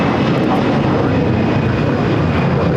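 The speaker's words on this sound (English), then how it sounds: "This taking off is Allegiant Air 782, the A320 taking off to Cincinnati." Allegiant Air Airbus A320 taking off at LAX, a loud, steady jet engine roar filling the air close by with no pause.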